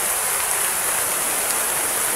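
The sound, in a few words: heavy rain falling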